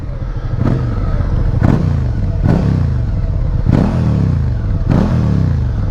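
A Yamaha MT-03 660 motorcycle with an Akrapovic exhaust idles and revs close by, a loud, deep, throaty rumble with about six quick blips of the throttle over a constant low engine drone.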